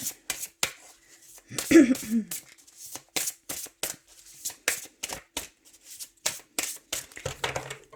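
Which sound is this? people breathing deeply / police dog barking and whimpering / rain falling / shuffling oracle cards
shuffling oracle cards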